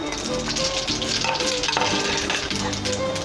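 Panch phoron seeds hit hot oil in a pan for vegetable khichuri, making a dense, steady crackling sizzle with light stirring. Loud, close and unbroken, with no talk.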